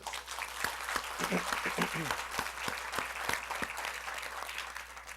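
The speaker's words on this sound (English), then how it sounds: "I ask you to give our future A round of applause." Audience of parents and guardians giving a round of applause for young camp participants, continuous dense clapping with some cheering, steady throughout.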